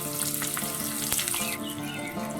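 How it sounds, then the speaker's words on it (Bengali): Chopped onions frying in hot oil in a kadai, a dense, loud, steady sizzle with crackling spatter throughout, close up and with no voices. "তেলটা গরম হয়ে গেলে আমি এর মধ্যে দিয়ে দেবো পেঁয়াজ কুচি"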